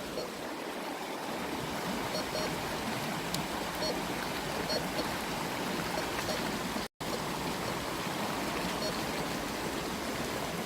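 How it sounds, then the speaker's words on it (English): Faint, steady flowing water runs without a break during outdoor metal detecting, a soft continuous wash with no one speaking. "And with that water noise"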